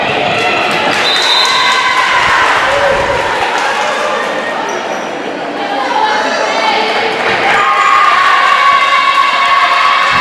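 Crowd noise fills a high school volleyball gym between the Girard Trojans and the St. Mary's-Colgan Panthers, a steady loud murmur of chatter and cheering close to the mic, with ball bounces and voices mixed in throughout.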